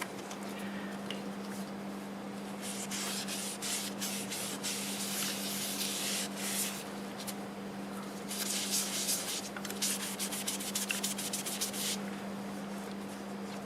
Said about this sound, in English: Get to see the first coat of finish go on.